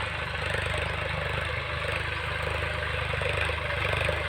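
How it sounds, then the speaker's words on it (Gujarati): A tractor working a cultivator in a field runs steadily, its engine a continuous, even drone with a faint clattering texture, fairly close and unbroken throughout. "તો ફ્રી એકદમ રમતું ટ્રેક્ટર ચાલે."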